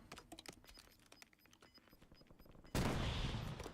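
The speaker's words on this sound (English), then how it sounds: "Doesn't shoot very straight, Soxy." Gunfire in a Battlefield video game, with scattered quieter shots and clicks building to a sudden loud, sustained burst of fire near the end.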